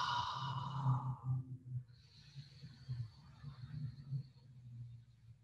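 Slow, deep inhale during a relaxed breathing exercise, a soft airy draw of breath heard up close and quietly, with faint low room hum beneath.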